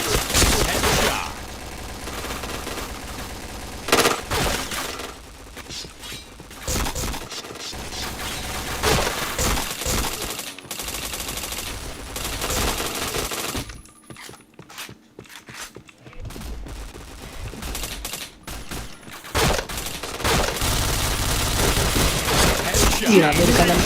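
Gunfire from the first-person shooter Point Blank comes in dense bursts of sharp, loud shots and rapid fire with quieter gaps in between, and players talk over it.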